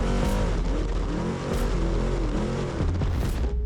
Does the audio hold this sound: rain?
no